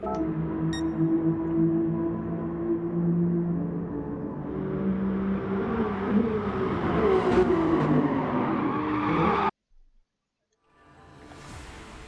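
Classic pre-1999 N300 race cars at Laguna Seca in a rallycross video game, several engines droning and revving loudly together, cutting out abruptly to silence before a lone engine fades back in.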